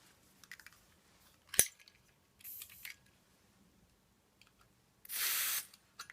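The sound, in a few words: refilling a Zippo Blue lighter from a camping gas cylinder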